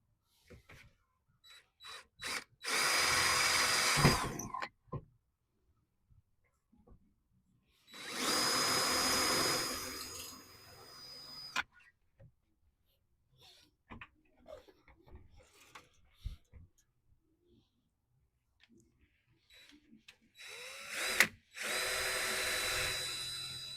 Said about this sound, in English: My 5/16 drill bit, and then after that I will use 5/8 drill bit.